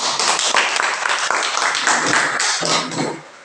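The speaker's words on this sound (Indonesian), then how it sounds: "Iya, terima kasih tepuk tangan." Loud, close applause from a class of students in a classroom, dense clapping that holds steady and then tapers off toward the end.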